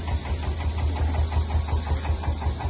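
A Swaraj 825 XM tractor engine idling: a steady low chugging with a regular throbbing pulse, constant and moderately loud, with a faint high whine above.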